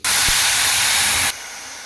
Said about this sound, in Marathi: टोमॅटोच्या प्युरीचा कलर बदलेपर्यंत आपल्याला आता छान हे तळून घ्यायचं आहे तुपामध्ये